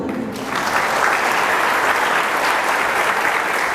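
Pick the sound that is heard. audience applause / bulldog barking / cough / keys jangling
audience applause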